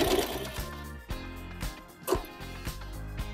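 A sewing machine stitches piping in quick, steady mechanical bursts with brief pauses between runs, close and clear with no talking.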